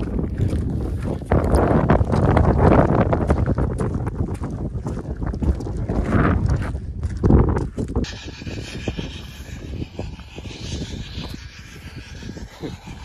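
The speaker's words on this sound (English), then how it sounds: "It's windy." Strong wind buffets the microphone high on Snowdon, roaring in gusts for the first eight seconds before easing to a thinner, steadier rush; no voices are heard.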